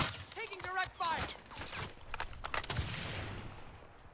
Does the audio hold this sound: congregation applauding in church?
no